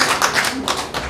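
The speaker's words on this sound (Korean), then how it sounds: "축하의 박수를 부탁드립니다." Short burst of congratulatory applause from the audience at a founding ceremony, a brief patter of hand claps close by with a murmur of voices underneath.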